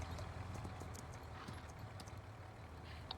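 Horse hooves clip-clopping while riding in Farming Simulator 19, faint, rapid, regular hoof beats over a low steady hum, with no talk.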